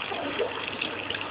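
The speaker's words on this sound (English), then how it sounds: "And then you want to add some water." Water pours steadily into a cooking pot for pot roast, a continuous close gushing splash lasting just over a second with no voices.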